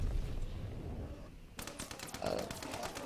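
Bursts of gunfire in the World War II shooter Call of Duty WW2, a hardpoint match: after a quieter first half, rapid crackling shots erupt and continue in dense volleys, loud and close.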